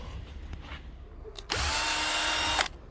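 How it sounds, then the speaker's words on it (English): A power drill spins up close and loud for about a second, boring screw holes during an RV slide-out repair, then stops abruptly. "I just drilled some holes for the screws to go through"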